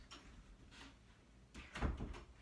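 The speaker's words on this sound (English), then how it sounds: "I'm gonna shut this door." A door being shut at home during a scolding, a soft thump near the start and a louder, close bang-like impact around the end, with no talking over it.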